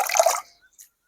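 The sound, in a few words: washing greens in salt water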